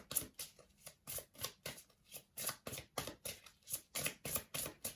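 Tarot cards being shuffled by hand on a small table: a close, steady series of crisp riffling bursts, about three per second, with no talk.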